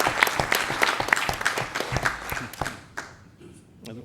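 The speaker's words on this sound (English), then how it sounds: "So I just want to give Frank a round of applause." An audience at a medical annual meeting claps in a dense round of applause that fills most of the moment, then thins out to a few scattered claps before fading.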